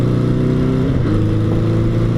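A motorcycle engine revs loud and close, its pitch dropping and then climbing again as the rider shifts into the wrong gear, one continuous throaty drone with no talking.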